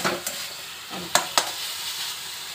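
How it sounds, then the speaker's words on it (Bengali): Leafy greens fry in a pan with a soft continuous sizzle, broken by a few sharp scraping stirs of a spatula against the metal. "এখানে দেখো শাকটা ভাজা হচ্ছে"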